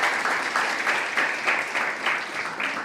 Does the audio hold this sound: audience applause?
yes